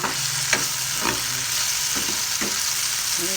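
Crushed tomatoes sautéing in a pan while cooking a mung bean dish, a steady close sizzle with a few soft stirring scrapes and taps.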